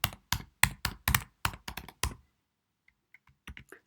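A computer keyboard typed on while writing Matlab code, a close run of about a dozen crisp keystrokes in quick bursts, a short pause, then a few fainter taps.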